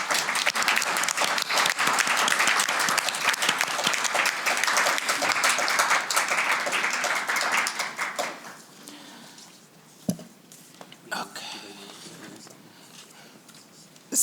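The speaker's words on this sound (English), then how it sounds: "Can we give them a round of applause?" A town council meeting audience applauds the color guard after the flag ceremony, dense clapping for about eight seconds that fades into scattered claps, faint room murmur and a couple of bumps.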